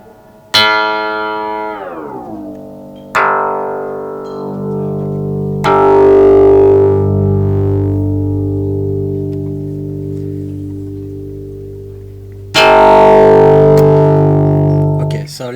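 A Mutable Instruments modular synthesizer module sounds loud, sustained electronic tones with bright attacks and pitch sweeps that glide downward, four struck notes in all, each ringing and slowly decaying, with no talk.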